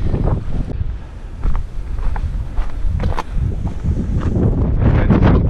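Strong wind gusting over a wide coastal cliff path at Punta del Hidalgo, buffeting the microphone in uneven low rumbles, with footsteps crunching along the trail and no speech.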